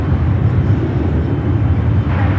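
Airbus A350-900 airliner lining up on the runway at San Francisco airport, a loud steady low engine rumble and roar held throughout without talk.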